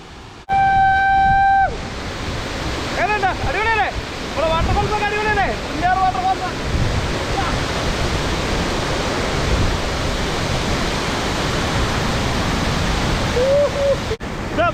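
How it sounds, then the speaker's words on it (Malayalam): A waterfall in Idukki roars as a loud, continuous broadband rush, with a few brief tonal whistles or calls rising over it early on. "ഇത്രയും മനോഹരമായിരിക്കുന്ന വെള്ളച്ചാട്ടം നമ്മുടെ ഇടുക്കിയിൽ വേറെങ്ങും ഇല്ലെന്ന് തന്നെ നമുക്ക് പറയാൻ പറ്റും"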